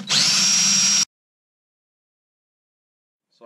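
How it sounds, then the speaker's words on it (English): A power drill bores holes while fitting a custom boat dashboard with a black inlay, one loud, close, high whining burst of about a second that stops abruptly, followed by silence and a brief faint sound at the end. "I'll mark these holes, drill them out, and secure this here."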